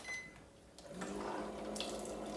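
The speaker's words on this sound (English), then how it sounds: "This is boiling water." Boiling water runs from an instant hot-water tap into a kitchen sink or vessel. A steady gushing pour starts after about a second and continues close and fairly loud to the end, with a faint earlier trickle before it.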